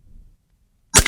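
A REX-P .35 caliber PCP air pistol fires a single sharp, loud shot near the end, with the pressure just above 100 bar, after a near-silent pause.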